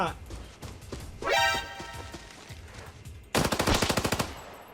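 G18C pistol gunfire in the shooter game Arena Breakout, a short burst early on, then a rapid-fire automatic volley of sharp, loud close shots toward the end.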